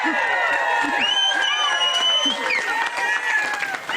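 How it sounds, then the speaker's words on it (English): Election night party crowd in Missouri cheering and whooping, with shrill voices and shouts rising over a lively hubbub, fairly close and loud throughout. "We'll let them cheer for a second."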